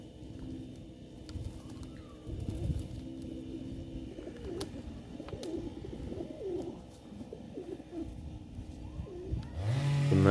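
Pigeons cooing in winter while bathing in snow, soft low coos amid a rustling, fluttering outdoor background, with a louder burst at the end.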